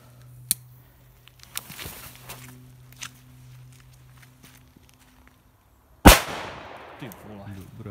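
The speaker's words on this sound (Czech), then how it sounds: "Exploziv 2." After several seconds of faint shuffling and handling noise, an Exploziv 2 firecracker detonates in a single close, loud crack, followed by a short fading rumble.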